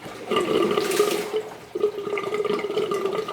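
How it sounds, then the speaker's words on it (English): Water gushes through a 1.25-inch PVC Durso overflow pipe at startup. The flow is loud and close, a continuous rushing gurgle that surges, briefly dips, and then keeps churning. No one speaks. "it's flowing water so fast with that big PVC"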